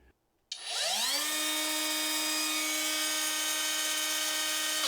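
Parkside Performance 12V brushless angle grinder, a single-speed 20,000 RPM tool, spinning up after a click: a rising whine settles into a steady, loud high-pitched hum that holds without any voices.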